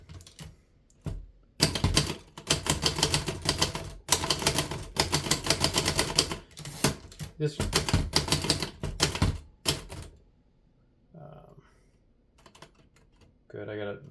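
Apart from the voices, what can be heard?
typing on a 1937 Remington Noiseless Model 1 typewriter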